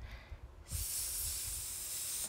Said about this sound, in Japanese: 空気が抜けていく音がしましたね